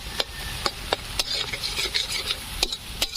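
Spatula scraping and stirring ground turmeric, coriander, cumin and Kashmiri chili into a large pangas catfish curry cooked outdoors village-style, sharp repeated scrapes over a steady sizzling hiss, close and fairly loud.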